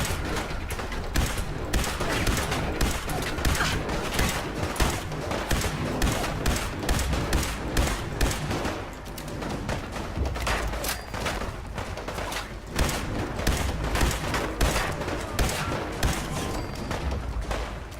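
Sustained volleys of gunfire in the Fallout 4 video game, dense rapid shots with booming thuds filling the whole stretch, loud and close, with no one speaking.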